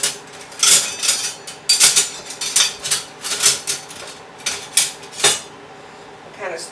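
A metal spoon stirs cumin into chicken posole soup with hominy and chickpeas in a pot, giving a string of sharp, close clinks and scrapes against the pot in an uneven rhythm.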